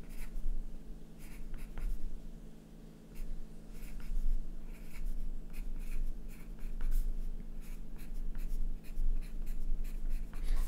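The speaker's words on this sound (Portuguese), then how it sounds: "O tema do desenho de hoje é esse aqui, vou escrever." Pen scratching out a word on paper at the start of a perspective drawing lesson, close, quiet strokes in irregular bursts with short pauses between them.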